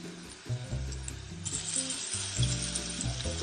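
Onions and bacon frying in a pan, a bright continuous sizzle that grows louder as the bacon goes in, over a low background hum.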